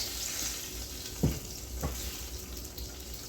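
Onions-ready pan for chicken adobo being scraped along the bottom with oil sizzling softly: two short scrapes stand out over a low, steady frying hiss.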